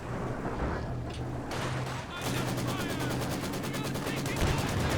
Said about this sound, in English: Bit of a Zis barrage coming through here.